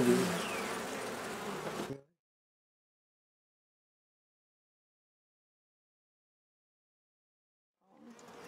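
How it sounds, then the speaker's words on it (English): Honey bees buzz loudly and close in a dense steady drone for about two seconds, then go silent before the hum creeps back faintly at the very end. "I'm going to show you the bees."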